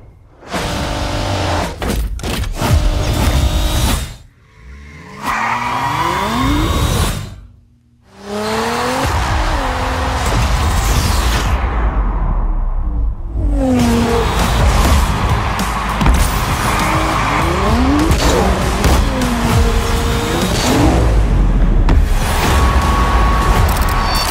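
A Nissan Z racing in the Rocket League video game, with loud engine revs, pitch sweeps as gears change, tire squeals and whooshes, broken by two brief silent gaps.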